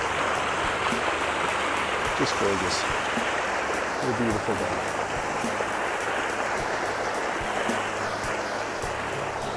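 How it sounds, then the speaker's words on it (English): A mountain creek rushes steadily and loudly on a hike, with a continuous broad wash of flowing water as a person speaks briefly over it. "I'm gonna look at this creek."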